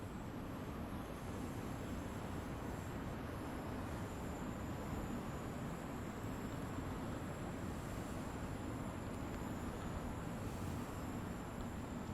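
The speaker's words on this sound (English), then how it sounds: "So here's a good look at our 8-carriage train." An 8-carriage Overground train runs steadily in Train Sim World, giving a faint, continuous low rumble with a constant high whine and no voices throughout.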